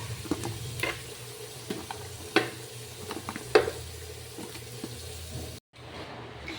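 Potatoes brown in a frying pan for a potato chicken mushroom dish, with a soft, low sizzle under intermittent utensil scrapes and clinks. The sound briefly drops out near the end, and no one speaks.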